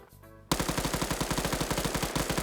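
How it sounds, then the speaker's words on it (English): Rapid gunfire in a first-person PvP shooter match, a steady stream of close, loud, evenly spaced shots that bursts in after a half-second of quieter game ambience and runs to the end. "He's gonna line up a headshot."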